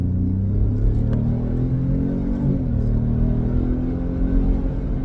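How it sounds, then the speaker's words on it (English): A car engine revs and pulls steadily through an acceleration run from a standstill toward 60 mph, the rising drone loud and close with a brief dip near the middle as it shifts. "Let's see, it's 0 to 60 and see how quick we go 0 to 60. Turn on, car."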